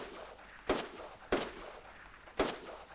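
Three sharp, distant gunshots crack through a quiet Fortnite match, spaced irregularly over a few seconds against low background noise.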